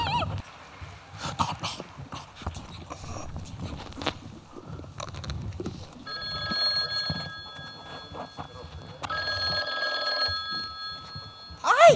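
An old-style telephone bell rings in bursts during a stage musical production, sharp metallic rings coming twice in the latter half after a stretch of stage movement and faint background noise.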